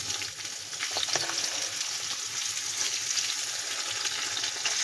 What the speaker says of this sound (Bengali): প্রথম হচ্ছে আমি পেঁয়াজটা ভাজতে বসিয়ে দেবো।